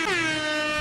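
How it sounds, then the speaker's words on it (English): A single loud air horn blast, steady and harmonically rich, sounds close for just under a second at an event in Fairbanks, Alaska. "There goes that air horn."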